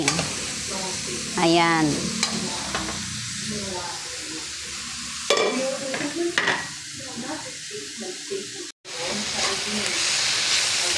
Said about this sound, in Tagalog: papulahin natin ng konti yung pork